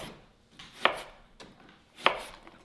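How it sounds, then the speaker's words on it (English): A knife cuts through a lemon on a board for a green juice, giving two sharp, crisp cutting strokes about a second apart, close and quiet with soft rustling between them. "So we'll do a nice slice of lemon"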